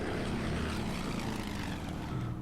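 Bomber aircraft engines drone steadily in the Pearl Harbor battle game Order of Battle: Rising Sun, a loud continuous propeller rumble with no pauses and no voices.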